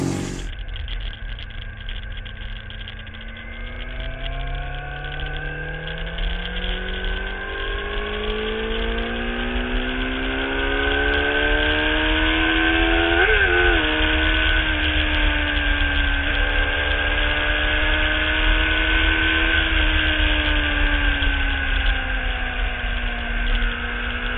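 Honda CBR600RR sport motorcycle being ridden, its engine revving up and down through the gears with rising and falling whine, sustained and fairly close for the whole stretch, wind noise underneath and no talking.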